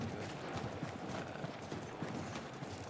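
Horse hooves clip-clop in a rapid, continuous gallop across a Conqueror's Blade battlefield, a dense rhythmic drumming under faint game ambience.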